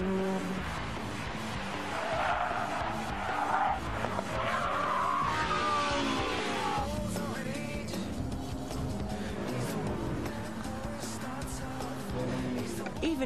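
A Mitsubishi Evo 8 with permanent four-wheel drive skids through a slalom in Gran Turismo 4, with continuous tire squeal and engine roar swelling and fading over several seconds and faint voice traces mixed in.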